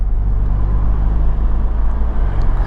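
An Audi TT engine drones at low revs as it shifts up through the gears, a loud steady rumble heard from inside the car.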